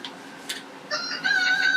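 Two hens and six or seven roosters: soft clucks, then a thin crow rising near the end of a very short stretch, moderately close and without speech.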